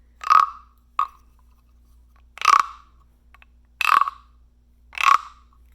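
A hollow wooden frog-shaped guiro is scraped along its ridged back in five ratcheting strokes, three long and two short, each a close, dry wooden rasp separated by pauses.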